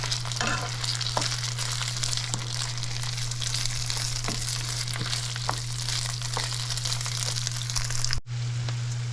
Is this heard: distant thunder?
no